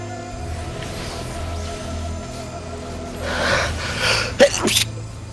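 A sharp, sudden sneeze bursts out near the end, close and loud, preceded by a quick gasping inhale, over a low hum of Final Fantasy 14 game music with faint talk nearby.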